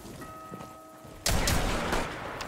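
Quiet ambience breaks into a sudden loud burst of rapid gunfire midway in Rainbow Six, a sustained volley that tapers slightly toward the end.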